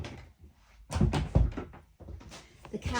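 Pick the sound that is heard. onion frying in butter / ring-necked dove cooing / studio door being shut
studio door being shut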